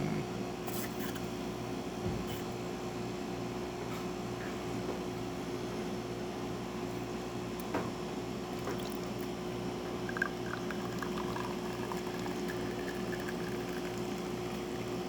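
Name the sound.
espresso machine pulling a shot of espresso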